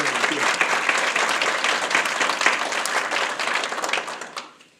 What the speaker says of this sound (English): let's give the entire committee a round of applause